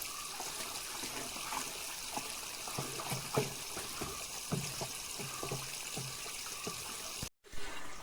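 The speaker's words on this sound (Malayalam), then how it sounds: "നന്നായിട്ട് ഇളക്കി ഒന്ന് മിക്സ് ചെയ്യട്ടെ." Potash fertilizer is stirred into a container of water, giving a quiet, close swirling trickle broken by a series of soft knocks and taps from the stirring. The sound is faint and steady, with no one speaking, and ends in a brief dropout.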